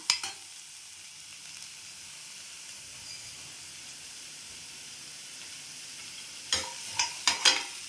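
Medium-size onions and dried red chillies with salt sauté in a pan with a steady soft sizzle, punctuated by a few sharp stirring scrapes near the start and end, close and quiet.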